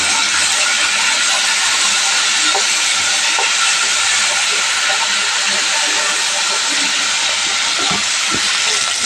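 Steady, loud hissing sizzle of ginger paste frying in hot oil, continuous throughout with occasional faint pops and clicks.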